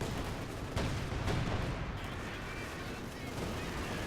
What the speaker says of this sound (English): Both sides trading grenades